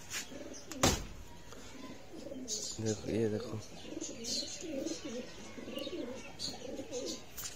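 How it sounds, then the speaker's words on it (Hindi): Two pigeons on a rooftop coo softly in the background while someone speaks over them outdoors. "हमारी छत के ऊपर दो गोले कबूतर बैठे हुए हैं"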